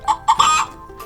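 A hen clucks on a farm in a few short, close, clear calls, two quick clucks followed by a longer drawn-out one.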